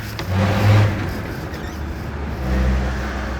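A Land Rover Defender's engine drives along with a low, uneven, offbeat rumble, swelling twice as it accelerates, with road noise underneath.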